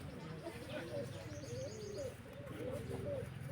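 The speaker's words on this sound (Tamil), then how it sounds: "இது வந்து அந்த பழைய லைனில் இருக்க ஒரு புறா" A pigeon coos softly in a village setting, its low repeated calls mixed with chirping from other birds and heard under someone talking.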